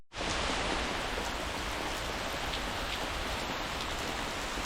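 Heavy summer rain pours down steadily in a forest in a dense, even hiss, close and continuous with no pauses.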